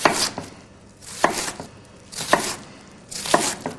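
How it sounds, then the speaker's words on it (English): A knife chops through an onion on a cutting board in four evenly spaced, crisp strokes, each a short sharp cut ending in a solid knock on the board, heard close with no talking. "With the weight of the blade to cut through that onion to get to the base of the root."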